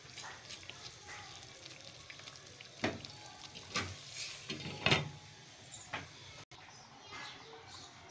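Crushed fine vermicelli cooking in a pan over a low flame makes a soft, faint sizzle broken by a few scrapes and stirs, fairly quiet throughout.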